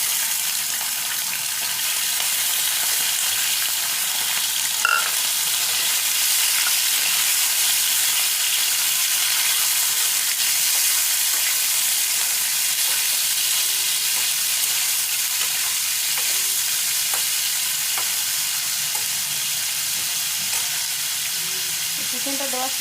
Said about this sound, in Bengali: তো দেখতে পাচ্ছ তেলটা গরম হয়ে গেছে। প্রথমেই যেটা দেবো আমি চিকেনটা দিয়ে দেবো।